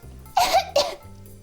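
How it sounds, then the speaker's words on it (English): Two quick, harsh coughs in succession, close and fairly loud, with quiet room tone around them. "Oh, you're coughing."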